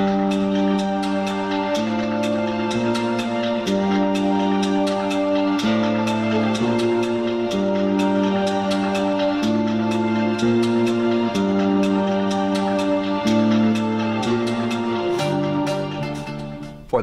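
Bass guitar plays an intro riff, a steady repeating run of plucked notes stepping between open and fretted positions, cycled four times with no gaps, clear and close with no voices.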